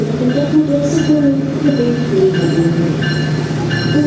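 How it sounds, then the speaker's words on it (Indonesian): The Cakrabuana passenger train pulls out of Purwokerto station toward Cirebon, a continuous rumble of railcars with faint wheel squeals and clatter, while voices talk faintly underneath. "Kemudian kereta api Cakrabuana diberangkatkan ke stasiun Cirebon"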